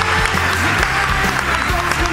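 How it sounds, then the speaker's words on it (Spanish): Audience applause for a named guest at a Spanish television program recorded with the Crevillent town council, a dense, steady clapping crowd mixed with low music or murmur over two seconds. "Un aplauso para Alberto Espinosa."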